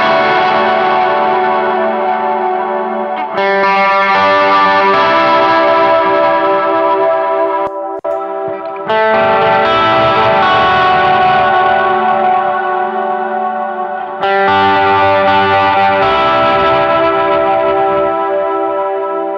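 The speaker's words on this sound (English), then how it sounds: "I'm going to turn a heavier reverb on real quick, and let's see how that is." Electric guitar played through a Walrus Audio ACS1 amp simulator with heavy reverb, sustained strummed chords ringing out loud with long washy tails, new chords struck every few seconds.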